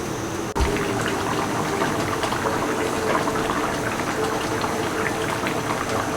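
Tilapia dopiaza curry bubbles steadily in a covered pot, a dense, continuous close simmering gurgle that stays even from start to finish after a brief knock near the beginning.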